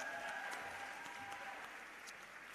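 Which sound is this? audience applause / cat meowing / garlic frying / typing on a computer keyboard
audience applause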